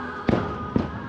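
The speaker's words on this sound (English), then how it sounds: "there's fireworks everywhere." Fireworks bursting over Disney World's Magic Kingdom, heard from the Astro Orbiter ride as two muffled distant booms about half a second apart over a steady background rumble.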